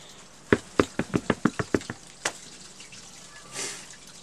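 Water dripping in a kitchen: a quick, fairly even run of about eight close drips, one more drip a moment later, then a soft brief hiss, with no talking.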